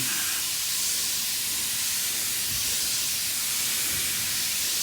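A garden sprayer misting insecticide over plants outdoors: a steady, close hiss of spray running continuously, alone, with no talking.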